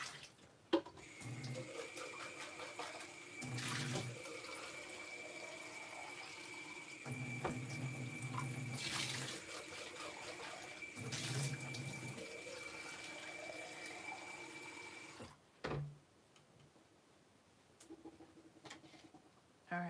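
Kitchen tap running steadily to collect clean water for painting, a continuous close hiss of flowing water with a few clunks and pauses near the end.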